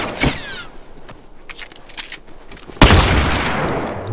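Gunfire in The Last of Us Factions multiplayer, sharp close shots scattered through the clip, then a loud burst of rapid fire near the end.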